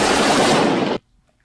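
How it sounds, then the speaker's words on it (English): A fully automatic AK-47 rifle fired into the air lets off one loud, dense, continuous burst lasting about a second, then cuts off abruptly into near silence. "firing a fully automatic AK-47 in the air"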